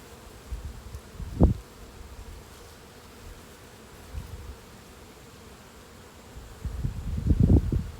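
Honeybees drone around nuc bee boxes in an outdoor apiary. A faint, low hum runs under soft rustling, with a couple of brief bumps early on and a louder swell of buzzing near the end.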